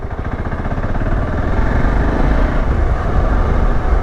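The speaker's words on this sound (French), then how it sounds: "Il y a juste ce moteur un petit peu présent d'un point de vue sonore" Single-cylinder engine of a Voge 650 DSX adventure motorcycle running steadily and loud, a close, continuous throbbing drone with a rapid pulsing beat and no speech.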